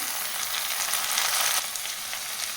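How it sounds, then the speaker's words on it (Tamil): Onions with curry leaves and tomatoes sauté in a hot pan, a close, steady hiss and sizzle with faint stirring scrapes, no voices. "வெங்காயம் நல்லா வதங்கட்டும்"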